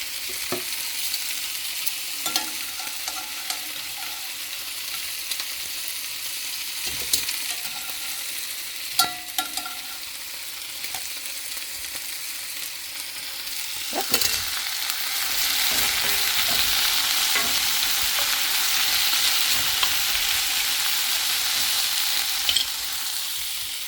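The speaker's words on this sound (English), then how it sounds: "I'm just going to heat that up a little bit." A 6-inch flour tortilla sizzles steadily in a hot pan for a long stretch, with occasional light clicks and taps of a utensil. The sizzle grows slightly louder toward the end.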